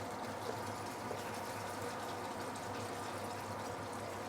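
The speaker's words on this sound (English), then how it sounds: "so now it started to boil a bit" Ginger scallion sauce starting to boil in a pot over moderate heat, a dense steady bubbling hiss that stays even and close throughout.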